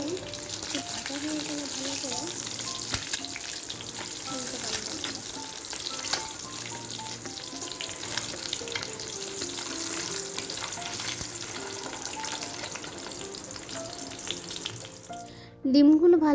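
Eggs frying in oil in a wok, laid yolk-side down, give a steady close sizzle with light stirring and clinking, with a clatter near the end.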